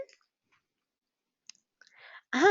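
A couple of sharp, faint mouse clicks at a computer while editing a video in iSpring software, separated by silence, followed by a brief snatch of a voice.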